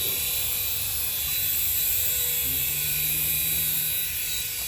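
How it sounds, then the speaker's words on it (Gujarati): A remote-control toy helicopter, an online-ordered gift, spins up with a steady high-pitched motor whine and buzzing rotor hum, close and constant throughout. "વિમાન ચાલુ કરે છે પાછું."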